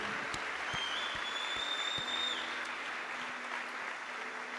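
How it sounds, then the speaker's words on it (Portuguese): Church congregation clapping in praise after a sermon, a dense, even patter of hands sustained for several seconds, with a few faint tonal whistles and scattered sharper claps on top. "Salve de palmas para essa galera"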